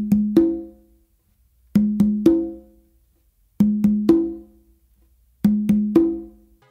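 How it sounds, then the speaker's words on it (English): Open tones on congas, struck in a cha cha cha pattern on the tumba and conga, come in four spaced groups of three resonant hits, two with one hand and one with the other, each ringing out before the next group. "what I'm doing is I'm doing two opens with my dominant hand on the tumba and then one open with my"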